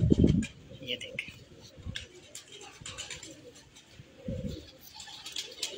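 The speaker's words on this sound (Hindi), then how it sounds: "अब आपको मैं एक और कबूतर का शौक कराता हूँ" Pigeons coo in soft low bursts at the start and again midway, fairly close, with someone talking over the background.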